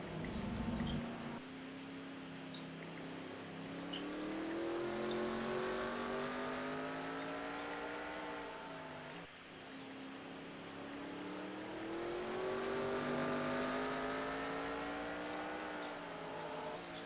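Race cars at Laguna Seca accelerating past, engines climbing in pitch through gears, swelling, briefly dropping on a shift, then rising again; distant and moderate in level, with no voices.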